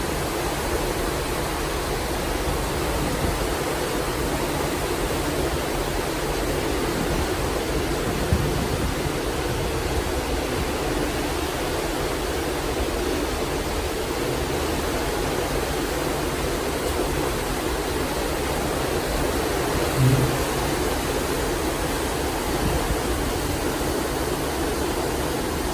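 Steady, loud rushing of churning sea spray below a cruise ship balcony, a broadband wash that fills the whole stretch without pause or voices.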